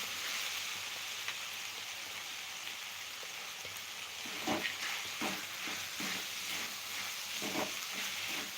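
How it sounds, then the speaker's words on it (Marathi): Soaked sabudana (tapioca pearls) cooking in oil in a pan, a quiet steady sizzle with intermittent stirring scrapes toward the end. "आता अगोदर इथं साबुदाणा तेलामध्ये घालून व्यवस्थित असं वाफवून घ्यायचा"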